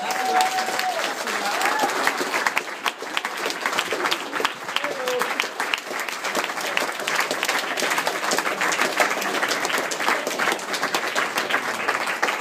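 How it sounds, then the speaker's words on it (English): Wedding guests give a sustained, steady round of applause after the best man's speeches, dense clapping from a crowd filling the room without letup. "Huge round of applause, they did a great job."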